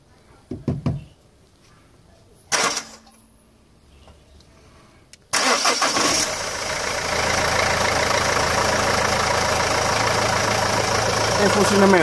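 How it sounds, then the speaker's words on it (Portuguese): A few sharp knocks and clicks break a quiet start, then a Renault Megane II 1.5 dCi diesel engine turns over after a fuel filter change and settles into a loud, steady idle with a rattling clatter. "É a altura então de dar a chave ao motor"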